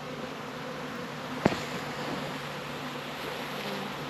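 Honeybees buzzing around queen-rearing nucleus hives in an apiary, a steady faint hum from many bees flying close by, with one brief louder buzz as a bee passes near, and no voices.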